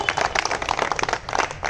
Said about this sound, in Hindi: इतनी कमजोर तालियां,